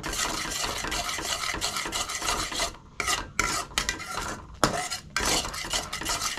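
Chopped coriander leaves stirred into an egg mixture, with busy scraping and clinking of a utensil against a bowl, close and fairly loud, pausing briefly a few times with no speech.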